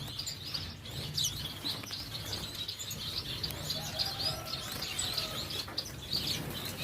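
Two blue-faced parrot finch chicks in a breeding setup, chirping with repeated high, thin tweets over soft background noise, fairly faint and fairly close, with no talking.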